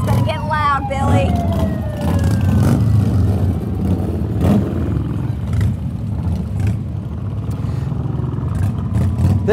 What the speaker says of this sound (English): Their truck is a 2014 Pierce Arrow rescue engine